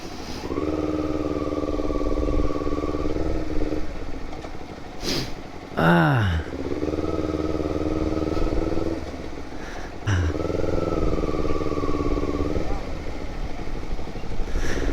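A motorcycle rides along a road on a district-to-district trip, its engine droning steadily close up with revs rising and breaking at two gear changes and wind rush in between.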